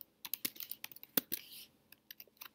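Close computer keyboard typing while entering a data filter into statistics software: a burst of quick, irregular key clicks with one louder tap, trailing off into sparse single keystrokes, no voice.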